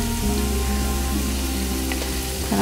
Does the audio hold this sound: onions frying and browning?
yes